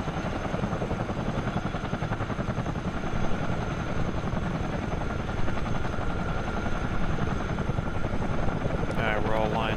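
A simulated Chinook helicopter from Microsoft Flight Simulator, fighting wildfires in Canada, gives a continuous, loud rotor thrum with rapid blade chop throughout, and a brief chirpy sound breaks in near the end.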